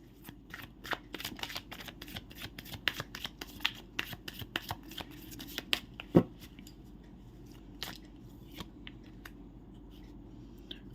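A deck of tarot cards being shuffled by hand, a run of crisp, close riffling snaps and flicks in uneven bursts, busier at first and thinning out toward the end, with no talking.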